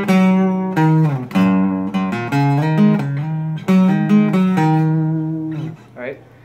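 The opening riff of a song is played slowly on acoustic guitar as a string of distinct plucked single notes, close and clear, alone without talk.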